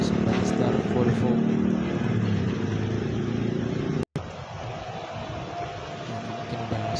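A Simpati Star Volvo bus roars past at night, with a loud, broad engine and road rumble that drops briefly and then settles into a steady drone. Busy traffic and voices are mixed in.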